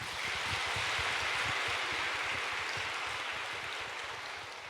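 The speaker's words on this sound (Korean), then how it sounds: "그냥 박수로 환영하겠습니다" A church congregation gives steady, sustained applause to welcome a family of new members at a Sunday worship service, a dense wash of clapping that fills the room without pause and fades slightly at the end.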